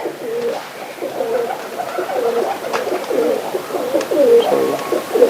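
Pigeons coo repeatedly in soft, throaty, rolling phrases, close by and steady throughout, with faint background noise.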